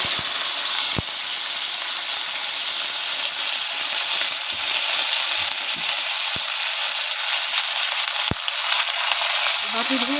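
Cumin and ginger paste sizzles loudly and steadily in a hot pan while a mixed vegetable curry is cooked, with a few sharp spoon clinks against the pan.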